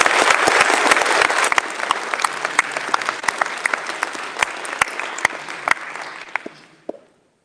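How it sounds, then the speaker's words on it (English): Applause fills a memorial service as the audience claps for the musicians. The sound starts dense and loud, thins into scattered individual claps, and dies away near the end. "And so I know if you can clap."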